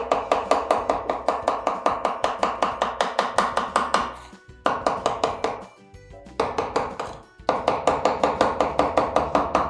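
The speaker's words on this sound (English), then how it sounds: "roughly chopping it." A chef roughly chopping food with a knife on a cutting board, brisk rapid rhythmic knocks in quick bursts with short pauses between runs, close and loud, no talking.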